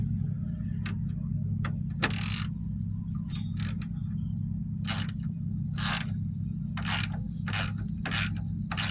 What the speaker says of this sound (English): We can go ahead and hit that with the ratchet here.